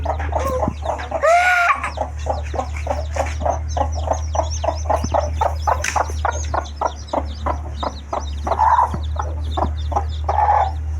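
A hen clucks in a steady, close run of short rhythmic clucks, broken by a few louder squawking calls, over a constant low hum.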